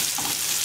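Tomato slices fry in oil in a pan and are shifted around, making a brief, dense, steady sizzle with no voice.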